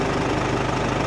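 A car engine idles steadily at close range at normal operating temperature, a low, even rumble with a faint rhythmic knock and nothing else.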